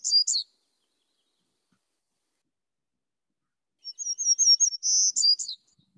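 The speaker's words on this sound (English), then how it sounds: "his vocalization is zeel, zeel, zweet, zeet, and the two zweet, zweets tend to be ascending in pitch" Black-masked warbler singing, a brief high buzzy zeel phrase, then after a long silence a clear series of thin, high notes rising at the end; close, alone, no other sound.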